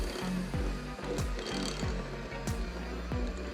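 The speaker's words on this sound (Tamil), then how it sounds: "மீதி இருக்கிற மாவை சேர்த்து எல்லாம் நல்லா மிக்ஸ் ஆகுற மாதிரி பீட் பண்ணுங்க" An electric hand mixer beats sticky toffee pudding cake batter, a near, steady motor whir broken by rhythmic knocking and scraping of the beaters against the bowl, repeating about every half second.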